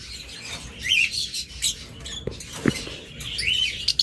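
Opaline budgerigars about one year old chirp in quick, bright bursts, with sparse twittering calls close by and light patter underneath.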